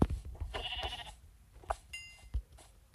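Sheep in the Minecraft video game bleat in short, close, separate calls, several of them spaced across the moment with quiet gaps between.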